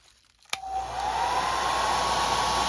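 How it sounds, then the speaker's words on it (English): A hair dryer on its low setting clicks on and runs with a steady, moderate whirring blow, its pitch rising slightly as it settles. "you can use your hairdryer on low setting"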